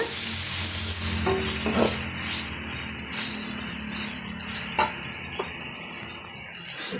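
Chopped tomatoes being sautéed in a pan for pepper chicken fry, with a steady oily sizzle, a few spoon stirs and clinks against the pan, close and continuous without talk.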